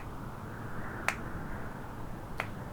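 Two sharp, isolated claps about a second and a half apart, slow and deliberate, heard alone over a faint background hiss.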